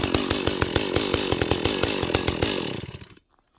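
Chainsaw running after a start in sub-zero cold around -25 degrees, loud and close, with a rapid pulsing idle rhythm that cuts off abruptly near the end into silence.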